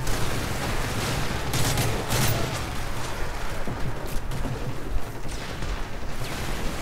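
Dense gunfire and explosions in Call of Duty Modern Warfare 3: continuous rattling automatic fire with booming blasts, loud and unbroken for several seconds.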